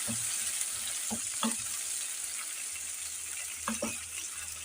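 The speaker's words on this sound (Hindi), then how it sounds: "अब इसे मैं ज़रा भूनूंगी।" Garlic fries with soft steady sizzling in a pan with a few clinks and scrapes of a spoon stirring, fairly close and quiet, no talking.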